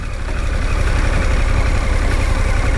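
A Harley-Davidson Pan America adventure motorcycle engine drones loud and close with a steady low growl as the bike pulls away in first gear on a slow-riding practice course.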